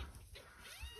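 Kittens meowing softly in a car repair workshop, faint thin mews rising and falling over a low background hum, close by but quiet, with no talk.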